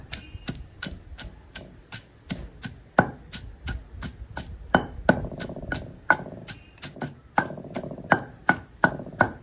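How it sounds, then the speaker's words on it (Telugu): Garlic cloves are crushed for tamarind chutney with a steady series of sharp, hard pounding knocks, close and fairly evenly spaced, about two or three per second, with no talk. "చెల్లిపాయలు కూడా నలిగిపోయినాయి"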